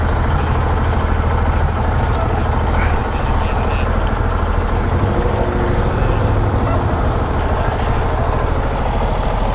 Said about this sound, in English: we've got a bus behind me